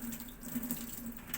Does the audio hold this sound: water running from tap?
yes